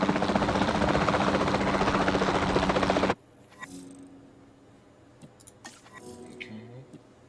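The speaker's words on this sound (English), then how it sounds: "the sensible thing is to take a capture team helicopter" A capture team helicopter flies in the dinosaur park game Jurassic World Evolution. A loud, steady rotor roar lasts about three seconds, then cuts to a much quieter background hum with light clicks.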